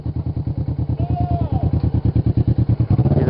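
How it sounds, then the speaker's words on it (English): Motorcycles from a bike club rumble close by with a loud, rapid, regular engine pulse that shifts in pitch near the end, and a voice is heard over the engines. "There's a bike club up ahead. Yay. Bunch of bikes."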